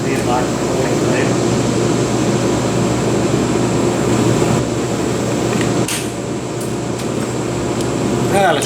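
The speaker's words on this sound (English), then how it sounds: "We'll just take the grinder and grind some of this stuff off" An angle grinder cutting metal on a Ford Ranger chop top, a loud steady whining grind that runs without a break from start to finish.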